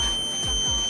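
A hydraulic levelling system on a vehicle sounds a steady electronic tone while the ignition is on, holding constant and fairly loud through a single second.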